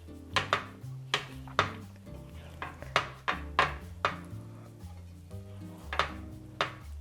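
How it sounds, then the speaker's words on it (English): Utensil scraping and tapping against a hot pan while eggs are moved about for a Polish breakfast, a steady series of close, clattering knocks roughly every half second with soft rubbing in between. "the pan is still hot a lot, and I'm just kind of moving my eggs about"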